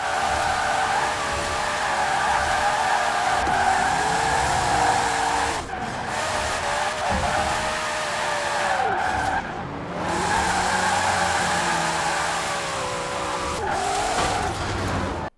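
A car in the Forza Horizon 4 racing game drives hard and skids continuously, its engine roaring steadily while the tires squeal through long slides, loud and close with brief dips, no talking.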